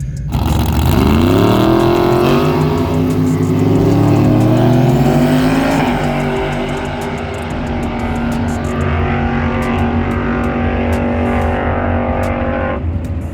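A turbocharged race car makes a bracket racing pass down a drag strip, its engine roaring loud and close as it revs through rising gears and then holds a steady high drone before cutting off.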